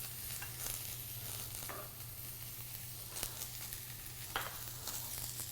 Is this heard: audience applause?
no